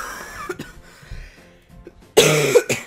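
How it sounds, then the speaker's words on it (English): After a quiet stretch with faint shuffling, a person coughs sharply twice near the end, close and loud. "I may cough at random moments without me knowing it"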